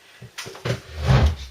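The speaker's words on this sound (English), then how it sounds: "oops, excuse me, that was my chair." A chair scrapes and bumps in a home kitchen during soap making, a few short knocks and a louder drag building toward the end, close by.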